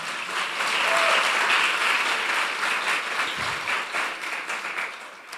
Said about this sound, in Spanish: Dele un aplauso al Señor si usted lo va a hacer.